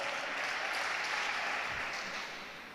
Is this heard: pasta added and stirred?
no